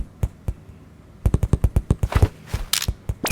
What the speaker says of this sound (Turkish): Bak patlama efekti.